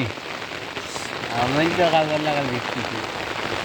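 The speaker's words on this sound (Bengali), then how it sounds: "দেখছেন বৃষ্টি" Rain falls on a village road in Bangladesh, an even hiss of drops that runs throughout while a person's voice briefly speaks over it mid-clip.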